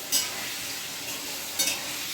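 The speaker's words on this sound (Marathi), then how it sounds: "मीडियम आचेवर मी पनीरचे पीस जे आहे ते लालसर असे तळून घेतलेले आहेत" Paneer pieces shallow-fry over medium heat in a kadhai, giving a steady close sizzle with two brief louder bursts as pieces are turned, and no voices.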